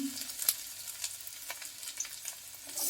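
Ginger pieces and garlic frying in hot oil in a pan for egg tadka dal, giving a soft continuous sizzle with a few light stirring scrapes and taps.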